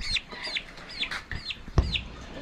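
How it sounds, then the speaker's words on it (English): Two young juvenile turkeys give soft repeated clucks and short chirping calls close by, several quick notes in a loose rhythm over a couple of seconds, with faint background noise between them. "And then there's our two juvenile turkeys."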